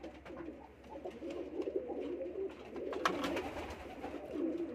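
Teddy pigeons in a breeding loft coo softly and repeatedly amid faint rustling and light background noise, moderately close.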